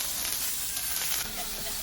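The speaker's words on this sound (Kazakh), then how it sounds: "Тапаншамызды қыздырып, оның үстіне ұсақтап тұрған пиязымызды салып қуыратын боламыз." Finely chopped onions fry in a heated pan with a loud, steady, close sizzle that hisses on without a break.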